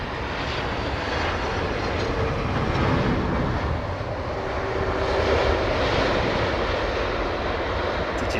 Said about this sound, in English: CF6 powered. So hearing that is possibly one of the Amiri jets.